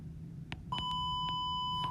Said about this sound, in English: I don't know if you guys can hear that, but the intercom just came on right now.